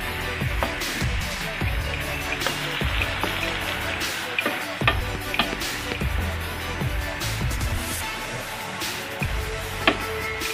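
Spinach sizzles and crackles in a hot pan over high heat, releasing water, a continuous spattering hiss with occasional louder pops and scraping.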